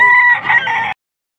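A young rooster at a market crows once, loud and close, with a strained, cracking cock-a-doodle-doo lasting just under a second before falling silent.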